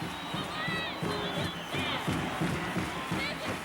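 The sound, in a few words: stadium crowd cheering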